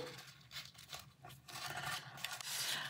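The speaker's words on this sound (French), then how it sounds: "on marque bien ses plis" Paper being creased and folded for a scrapbook notepad, soft close rubbing and scraping strokes in several short passes, fairly quiet.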